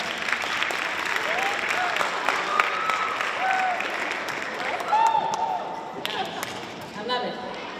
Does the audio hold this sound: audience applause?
yes